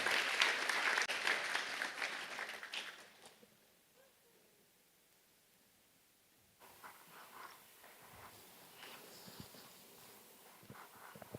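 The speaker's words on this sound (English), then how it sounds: "Give an outstanding applause to our speakers," Conference audience applauding the speakers at an event on humanity and AI, a fairly loud burst of clapping that fades out after about three seconds, followed by quiet room noise with light shuffling and distant murmur.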